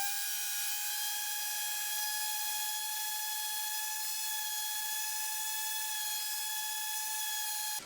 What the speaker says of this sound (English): Just take these little burrs off. I'm just gonna sand it